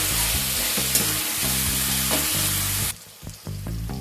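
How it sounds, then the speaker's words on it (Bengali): Tomatoes frying in a pan for dal palak, sizzling loudly and steadily while being stirred, with soft rhythmic scraping underneath; the sizzle drops away briefly near the end, then resumes. No voices. "এবার টমেটোটাকে একটুখানি নাড়াচাড়া করে নেব।"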